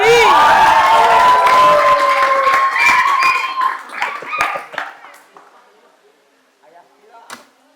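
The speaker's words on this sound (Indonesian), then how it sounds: "Beri tepuk tangan yang meriah buat Ayah Bebe Wahyudi." Indoor audience at an Islamic talk breaks into loud applause and cheering that fades out over several seconds, with voices mixed in.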